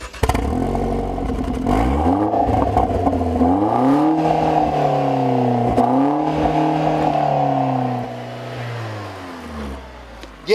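A 2014 Chevy Sonic Turbo with a Borla exhaust accelerates hard, its engine note rising steadily through the gears in a loud, continuous, near drone that eases off toward the end.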